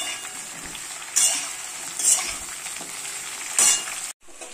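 Eggplant and potato pieces frying in oil for a Bengali begun bori alu dish sizzle loudly and steadily, with several scraping stirs of a spatula and a brief drop-off at the end.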